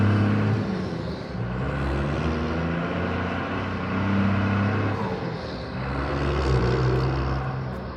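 A Cummins diesel pickup truck with a manual transmission revs with a loud, deep, rumbling drone that swells and eases over several seconds, with no voices.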